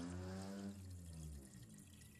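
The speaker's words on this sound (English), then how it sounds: "Now pour the entire content into the radiator." A liquid gasket repair product being poured from a bottle into a car radiator, heard as a faint, close gurgling trickle of fluid that thins out toward the end.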